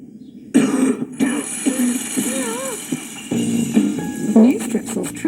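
Harsh coughing and throat clearing in a Strepsils throat lozenge advert come in a few rough, close bursts, mixed with strained vocal sounds.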